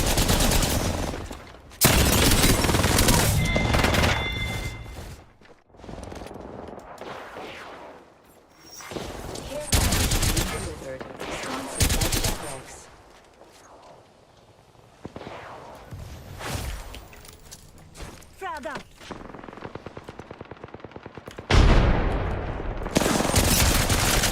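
Video game gunfire comes in repeated bursts of rapid automatic shots and single loud cracks, close and intense, separated by brief lulls, with someone talking at times between the volleys.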